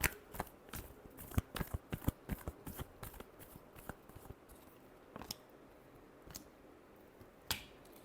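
A deck of tarot cards being shuffled by hand: a quick run of crisp, close riffling snaps and flicks at first, then thinning to scattered single taps and slaps, quiet and close with no talking.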